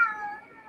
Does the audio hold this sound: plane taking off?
no